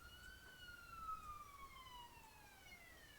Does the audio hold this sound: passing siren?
yes